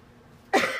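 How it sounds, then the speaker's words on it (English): A single short, close cough from a person, sudden and fairly loud after a moment of near silence. "Actually went longer than I thought I would without coughing"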